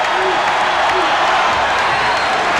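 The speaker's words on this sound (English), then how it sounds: "Great crowd tonight." A packed basketball arena crowd on its feet at a 1989 college game between Iowa and Illinois, a steady broad roar of cheering and applause with scattered whoops, loud and continuous throughout.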